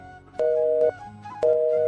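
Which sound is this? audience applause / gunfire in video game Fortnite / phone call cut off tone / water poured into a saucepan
phone call cut off tone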